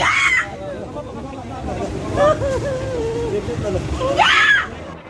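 A woman carrying her toddler screams hysterically while resisting officers under a rail overpass on Jalan RP Suroso, Menteng, Central Jakarta, before dawn. Two loud, shrill shrieks open and close the clip, with crowd babble and voices throughout.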